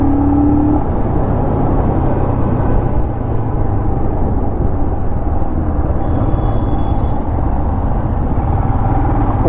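A Royal Enfield Scram 411 single-cylinder motorcycle engine drones steadily while being ridden, a continuous close rumble mixed with wind noise, with no talking.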